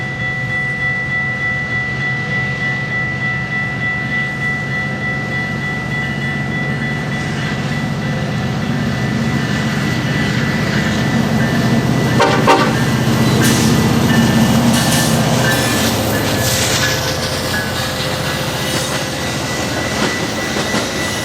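A Metra passenger train led by a locomotive rumbles steadily nearby, growing slightly louder as it approaches, with rail noise, wheel clatter and a brief squeal partway through.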